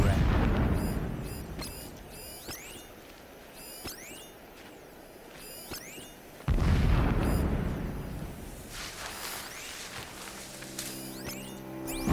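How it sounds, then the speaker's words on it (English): Explosion blasts in the action video game Horizon Zero Dawn, with two loud booms followed by rolling rumble, scattered sharp cracks and pops in between, and a high ringing tone near the end. "Every time they set off another blast, my ears ring."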